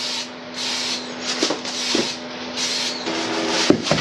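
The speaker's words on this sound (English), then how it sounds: "Pretty tough spraying this one on because it's not a very uniform lay." Aerosol spray painting of a Honda Transalp motorcycle fairing with Plastikote primer, long hissing bursts from the can broken by short pauses, close and steady, with a few small knocks and clicks between passes.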